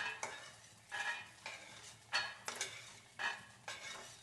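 Roasted peanuts being scraped and tipped out of a pan while cooking fasting laddoos, giving a run of about eight close, sharp scraping and rattling bursts in an uneven rhythm, with no talk.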